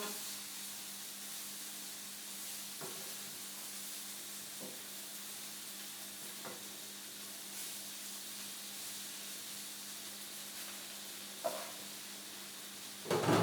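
Tempeh sears in a skillet with a steady, soft sizzle and hiss throughout, broken by a few faint clicks of turning and a louder clatter at the very end.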